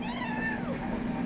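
A house cat meows once, a drawn-out cry sliding downward, close by over a steady low hum in a kitchen.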